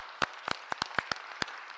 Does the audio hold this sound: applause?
yes